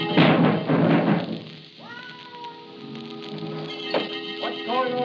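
A cat meows several times in a classic Blue Beetle crime radio drama, rising and falling cries heard alone after a burst of rustling noise at the start.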